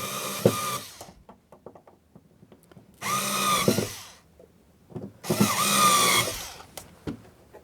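Power drill driving a couple of screws to seat a Blue Point switch machine, heard as three close, loud bursts of whirring with short quiet gaps and small handling clicks between them.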